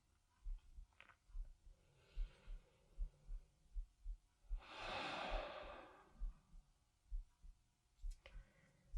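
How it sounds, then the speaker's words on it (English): Slow, deep breathing during a gentle hip and spine workout. Soft breaths and one long, loud exhale sound alone and close, over a low rhythmic pulsing thump. "Enjoy 3 more breaths here."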